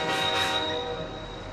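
A train slows to a halt with a steady, loud mechanical hum and a sustained high whine of braking wheels, close by with no talk.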